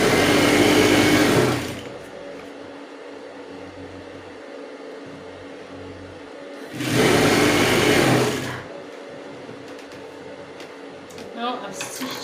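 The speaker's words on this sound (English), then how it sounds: "go over to the machine and stitch very close to the crinoline" A sewing machine stitches close along crinoline lining fabric in two loud bursts of a couple of seconds each, separated by quieter handling sounds.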